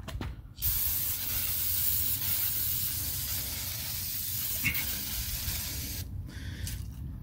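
Aerosol brake cleaner sprays in a long continuous hiss onto new brake rotors during a front brake upgrade on a 1997-2005 W-body car, with a short burst at the start and the spray cutting off near the end.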